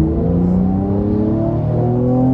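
A 2019 Mercedes C43 AMG with stock exhaust accelerating under turbo boost, heard from inside as a steady engine drone that climbs gradually in pitch, moderately loud with no voices.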